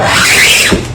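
A utility cutter blade scrapes hard across a surface in one loud, rasping stroke with a shrill squeak that rises and then cuts off.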